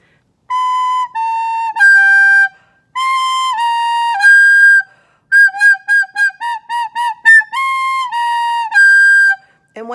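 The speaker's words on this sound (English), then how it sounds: "that extra little burst of air makes a really uncomfortable squeaking sound" Soprano recorder notes pushed with extra bursts of breath instead of tonguing, giving a series of bright, piercing tones with shrill squeaky edges, some held and some quick short repeated notes, played close and loud without speech.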